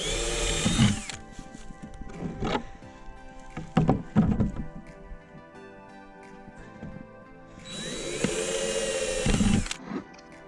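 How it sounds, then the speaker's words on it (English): A power drill whines in two long bursts while pre-drilling holes for swarm traps, at the start and near the end, with knocks and clunks of handling in between. "I'm gonna pre-drill these holes."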